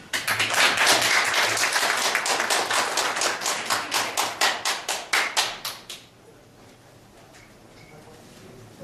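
An audience at a political leadership course applauds a Democratic Party supreme council member, loud rapid clapping for about six seconds that thins into distinct separate claps before fading to quiet room tone.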